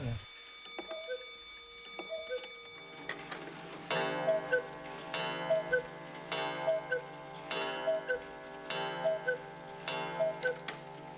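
Several cuckoo clocks tick together in a quick, even rhythm, with soft chimes at the start, the ticking close and steady throughout.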